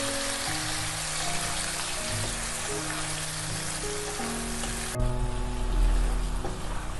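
Ginger paste and tomato paste fry in hot oil in a pan, a steady crackling sizzle under soft music, briefly swelling with a stir near the end.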